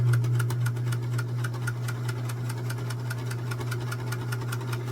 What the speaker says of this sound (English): We're going to put right sides together and start sewing this together.